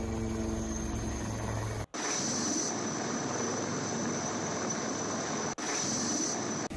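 An army rescue helicopter working after a cloudburst in Doda, Jammu and Kashmir, including a rooftop landing, makes a loud, steady engine and rotor roar broken by two abrupt cuts, with no voices heard.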